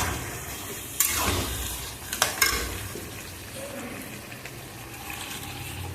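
Water poured into a hot pan of spiced potol chingri curry, the pointed gourd and prawn masala sizzling and hissing steadily, with a brief louder splash and rush near the start.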